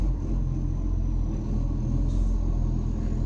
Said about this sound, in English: It's a noisy truck.